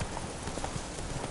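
Horse galloping in The Witcher 3 video game, rapid clip-clopping hoofbeats close by over a dense rumbling background.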